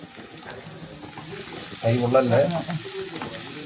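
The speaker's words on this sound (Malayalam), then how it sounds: "രണ്ട് സവോള അങ്ങോട്ട് ഇട്ടു" Onions sizzle steadily in a hot pan, with a stirring scrape and a person speaking briefly over the frying.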